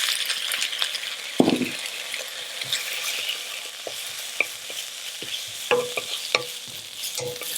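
Caramelized onions fry in a pan with a little balsamic vinegar, giving a soft continuous sizzle with scattered scrapes and taps of a stirring utensil, heard up close and without speech.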